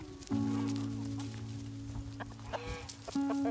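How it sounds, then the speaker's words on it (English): Chickens cluck and murmur close by in a garden, with steady tonal calls over a busy outdoor background and no talking. "now we got the chickens doing their work down here in this section of the garden"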